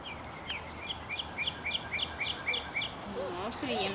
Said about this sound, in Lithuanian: Čia paukščiukai.